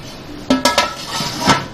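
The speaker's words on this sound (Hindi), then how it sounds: "अब मैं इसे डिश में निकाल के फिर आपको दिखाती हूँ।" A spoon scrapes and clinks against a metal pot while nalli pulao is served into a dish, a few sharp clanks close up followed by softer scraping.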